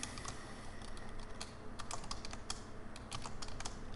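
Fingers tap rapidly on a computer keyboard in an irregular stream of light, close clicks and key strikes, with no voices present.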